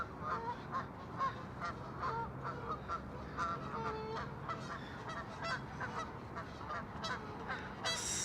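Geese at a park on Roosevelt Island in New York City give repeated honking calls over about eight seconds, bursts scattered irregularly over a steady outdoor background hum.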